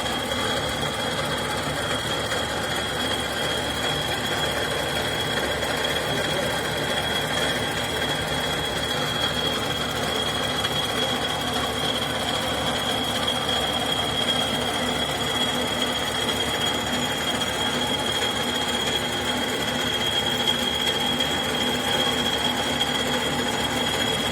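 Steady mechanical hum of a workshop drilling machine boring a hole in a workpiece under lever-fed downward pressure, with a continuous whine and faint rattle throughout.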